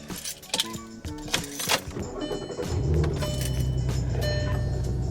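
Keys jangle for a couple of seconds, then the car's engine cranks and catches, settling into a steady low idle close by.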